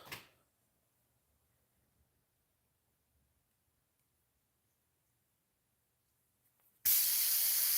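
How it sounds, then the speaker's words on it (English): An airbrush is cleaned by spraying out its needle, giving a loud, steady close hiss that bursts on near the end after a brief puff at the start and several seconds of near silence. "Let's get this airbrush needle cleaned off."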